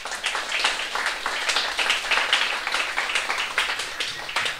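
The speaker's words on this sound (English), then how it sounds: "let us give him a round of applause again" Audience at a symphony theatre reopening applauding a young performer, a steady dense wash of many hands clapping for the whole stretch, fairly even in loudness with no voices over it.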